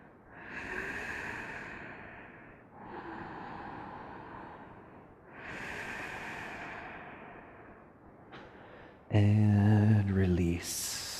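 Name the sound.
slow deep exhaling breath during yoga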